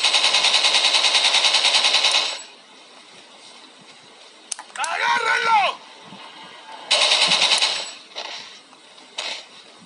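Rapid automatic gunfire from the video game Resident Evil 4 on Wii, heard as a steady burst of fast shots at the start and again later, with game sound effects and brief clatter in between.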